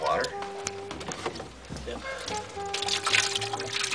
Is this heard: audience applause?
no